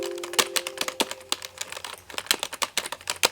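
Fast typing on a Razer DeathStalker keyboard: a rapid, close stream of crisp key clacks with uneven rhythm and short bursts, no voices.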